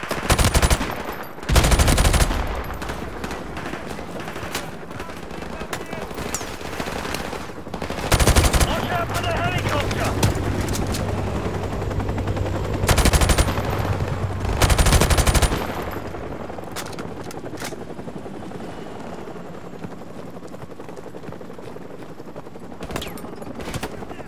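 Rapid machine-gun bursts and scattered gunshots from a Call of Duty battle, loud and repeated in several heavy volleys over a continuous din of combat noise.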